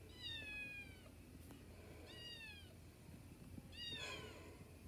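A cat shut outside a door meows three times, drawn-out and plaintive calls spaced about two seconds apart, moderately close with a quiet background and no talking.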